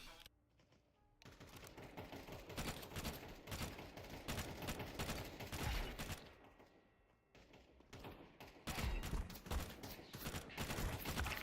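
A FAMAS rifle fires in PUBG as several long bursts of rapid automatic gunfire, close and loud, separated by short quiet gaps.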